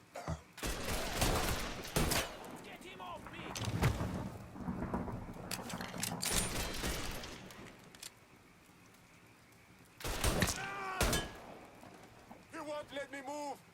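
Gunfire in the video game Mafia III, bursts of rapid shots and crackling impacts coming in clusters, with someone talking over the combat and a loud volley near the end.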